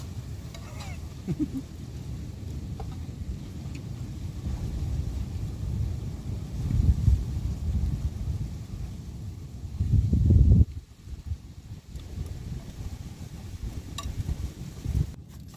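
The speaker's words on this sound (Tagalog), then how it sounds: "Sobrang lakas ng hangin, pati cellphone natatangay." Low, rumbling gusts of strong wind buffeting the microphone, swelling and dropping unevenly, with faint speech underneath.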